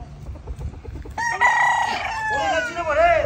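Chickens and roosters on a ranch, with a loud rooster crow rising over background clucking and scratching, close by and prominent in the second half.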